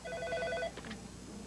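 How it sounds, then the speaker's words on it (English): A telephone bell rings in a short burst of trilling chimes that then break off, heard alone and fairly clear in a quiet room. "Plumber Ronnie Lozzie took the call"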